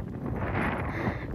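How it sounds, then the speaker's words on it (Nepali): Wind blowing across an open hilltop, a steady dull rush buffeting the microphone, close and continuous for the short moment with no voices. "यस्तो हावा चल्दो रहेछ यहाँ"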